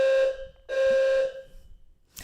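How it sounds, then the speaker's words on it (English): An indoor fire alarm sounds two long, loud buzzing beeps separated by a brief gap, with a short clatter at the very end. "Can you hear the fire alarm going on?"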